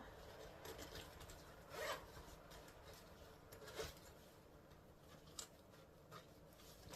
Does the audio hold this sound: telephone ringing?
no